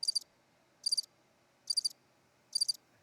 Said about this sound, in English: Yeah, that's exactly what it is. Crickets.